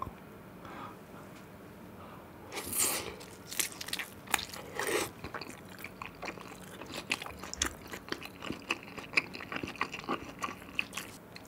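Close, mostly soft chewing sounds come from spicy tteokbokki eaten with fish cake, fried seaweed rolls and grilled gopchang. Crunchy bites and sticky mouth sounds arrive in irregular bursts, louder early on and then scattered and quieter.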